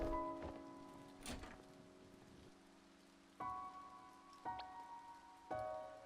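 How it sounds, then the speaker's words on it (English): Rain falls in the video game To the Moon, a soft steady patter with intermittent thunks and drips from surfaces, faint and somewhat distant over a low musical hum. "Wait, in the rain?"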